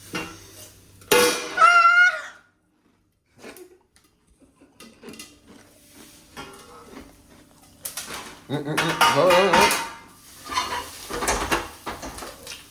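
A steel plate and spoon clatter close by as things tumble to the floor during home popcorn making, with two loud bursts of metallic rattling and clinking separated by quieter shuffling and faint room noise.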